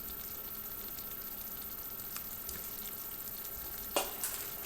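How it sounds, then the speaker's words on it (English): A spoon quickly stirs white chocolate morsels and vanilla into hot pumpkin fudge in a pot. There is a soft continuous bubbling hiss and a brief scrape near the end. "we're going to add the very final ingredients, which we have to stir in very quickly"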